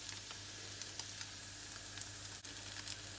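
Stuffed grated potato cake filled with vegetables and meat frying in a 28 cm pan, giving a steady close sizzle with faint crackles and no talk.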